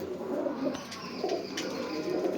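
Several pigeons, large birds kept in pairs, give low, rolling coos that overlap in a steady murmur, close and moderately loud.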